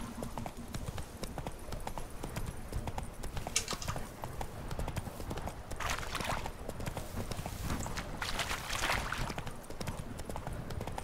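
In The Witcher 3, the horse Roach gallops with a fast, steady rhythm of heavy clip-clopping hooves, continuous and fairly close, with game ambience and occasional rustling bursts around it.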